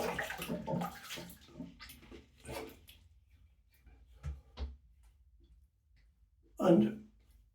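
Tap water runs briefly into a basin to fill it for wet shaving, with someone speaking over and around it and a louder splash near the end.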